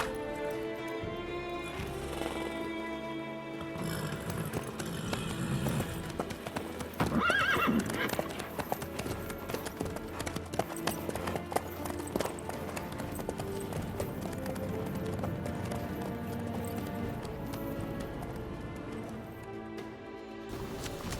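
Horse galloping in The Witcher 3, steady rhythmic hoofbeats over a musical score, with a whinny partway through.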